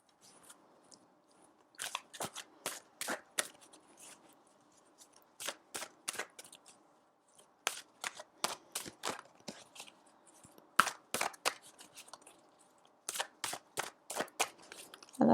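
Tarot cards are shuffled and drawn in quick bursts of crisp, papery riffles with short quiet pauses between them, close and fairly faint with no talking.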